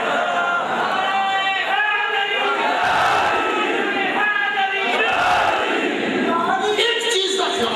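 A large crowd at a victory celebration following a religious debate chants the slogan Nara-e-Haidari, loud massed voices rising together in a continuous, swelling roar that fills the whole stretch.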